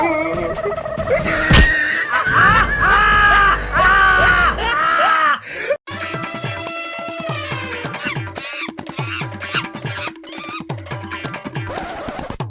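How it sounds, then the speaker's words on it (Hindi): Several people scream and shriek loudly in a desi comedy sketch, overlapping high-pitched yells at first, then a run of repeated rhythmic squawking cries that sound like clucking fowl. "ये क्यों चिल्ला रहे हैं?"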